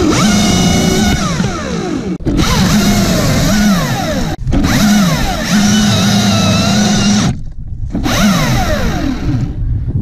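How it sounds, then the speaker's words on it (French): A loud Husqvarna T540i XP or T535i XP chainsaw cutting acacia roars steadily, its engine pitch rising and falling as it bites, with two brief cutoffs before revving again. "Une tronçonneuse qui a pas de chevaux"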